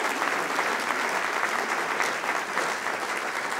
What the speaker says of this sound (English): let's give a round of applause to Philip Johnson